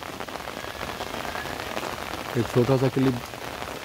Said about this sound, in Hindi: हमारे यहाँ बारिश हो रही है